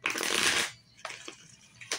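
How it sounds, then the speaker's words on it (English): A deck of tarot cards riffled in a quick burst, followed by a few soft card taps and shuffles, close up and alone. "I'm gonna shuffle it up"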